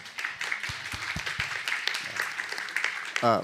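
Audience applause at a forum for geography teachers and university students: a steady patter of clapping from a seated crowd in a hall, moderately loud, ending in a brief burst of noise.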